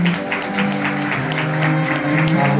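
Wedding guests clapping together in a hall, sustained applause at steady volume with piano quartet music playing underneath.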